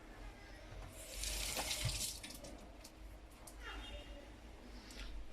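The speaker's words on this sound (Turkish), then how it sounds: "Yıkalım hemen biz pipeti." Tap water running over a drinking straw being washed for a homemade glass hookah, a steady faucet stream swelling and fading at sink level, with a voice speaking over it.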